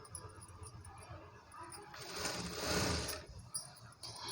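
A sewing machine runs in one short burst of about a second, stitching through two layers of saree main fabric and lining for an umbrella frock, close and fairly quiet against a low room hum.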